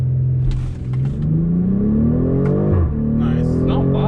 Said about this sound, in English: Okay, let's try to launch it.